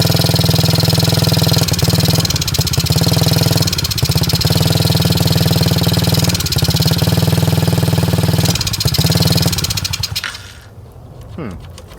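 A 90cc TaoTao ATV engine runs loud and close on its first start, holding a steady buzzing idle with brief revving surges, then cuts out near the end.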